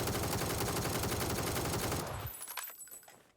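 Rapid automatic gunfire from PUBG on console rattles out as a dense, loud sustained burst, then cuts off into short echoing tails and fading reverberation.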